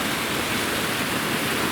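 A mountain creek rushes in a steady, broad wash of water noise along a hiking route below Mount Brewer, close and continuous with no voices.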